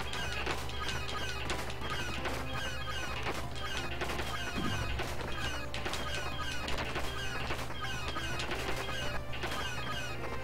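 Birds squawk and honk continuously in the retro video game Growl, a busy layer of game sound effects with a brief crash near the middle and no talking.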